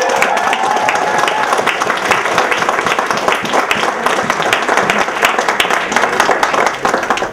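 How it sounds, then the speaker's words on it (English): An audience at a football stadium event gives a big round of applause for St Johnstone Football Club players, loud sustained clapping from many people with a brief murmur of crowd voices beneath. "I want you to give them a big round of applause"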